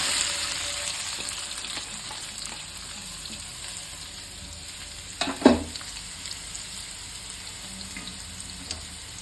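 Onions sizzle steadily in a hot pan while cooking tomato thokku, a soft continuous frying hiss broken once by a brief clatter midway, with no voices.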